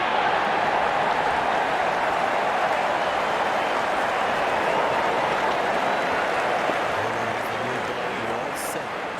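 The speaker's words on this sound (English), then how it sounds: "Out come the openers, cheered by a good crowd here." A large simulated crowd cheers and applauds in a cricket video game multiplayer match as the openers walk out, a broad, loud continuous roar that holds steady throughout with faint sharper sounds near the end.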